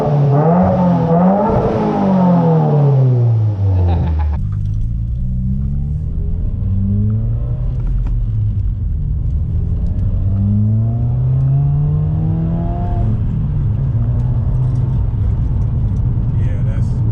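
Subaru WRX fitted with a new cat-back exhaust, engine revving and rumbling loudly up and down in repeated swells, with a deep steady drone underneath and people's voices occasionally under the engine.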